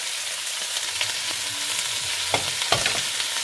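Garlic, onion and ginger sauteing in a pan, with a bright, steady sizzle close up and a few sharp scraping stir sounds toward the end, no voices.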